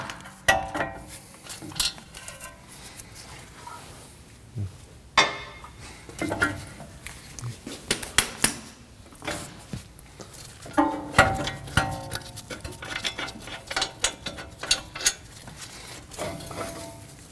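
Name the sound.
removing 19mm knuckle bolts on Honda Pilot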